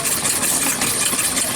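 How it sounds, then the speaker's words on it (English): A small model engine running on propane rattles steadily and close by, shaking the table it sits on at a show, with a constant busy drone and no pauses. "This little engine's got a little strength to it. It's shaking the table."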